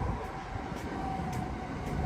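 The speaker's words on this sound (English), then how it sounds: "there's a Great Western just going over the top there now" A Great Western commuter train passing overhead on a railway line in north London, heard as a faint, steady low rumble with a sustained tonal hum, distant and continuous.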